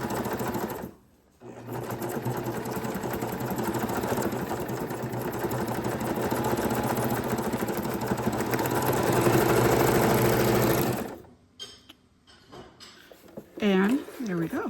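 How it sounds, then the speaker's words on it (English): A sewing machine stitches junk journal tags in long, steady runs of rapid whirring, stopping briefly between passes, with a voice speaking near the end. "We're just gonna go back here and sew again"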